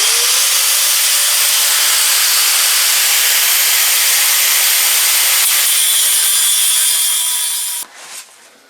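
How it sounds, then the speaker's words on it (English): Power tool cutting the edge of a metal satellite dish, a loud harsh continuous hiss and grind that holds steady for several seconds before cutting off and sputtering briefly, with no voices. "not happy with how crooked it cut, so we're going to cut it again."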